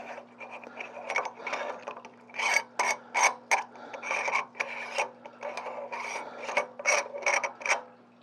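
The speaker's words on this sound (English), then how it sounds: "It's just basically an aluminum tube that gives you a setback. So we'll attach that directly to the scope." An aluminum Celestron T adapter being screwed onto a C14 Edge HD telescope, giving a series of close, rhythmic metallic rasping and scraping strokes that come in short bursts, with no talking.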